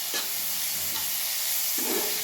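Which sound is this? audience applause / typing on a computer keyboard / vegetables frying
vegetables frying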